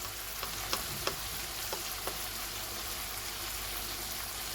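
Tomatoes and spices with salt fry in a pan for baingan masala, giving a constant soft sizzle with a few light clicks of stirring.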